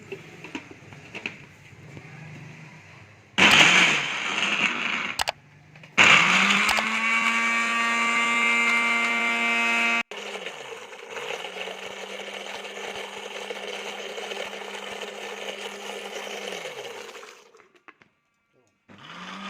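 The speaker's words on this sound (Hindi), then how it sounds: "अब हम इसे ग्राइंडर को इसके ऊपर रख के इंशाअल्लाह चलाते हैं।" An electric grinder blends pomegranate seed and mint chutney in a jug, whirring loudly in long steady runs with pitch shifting as it spins up and settles, stopping briefly between bursts; brief speech occurs early.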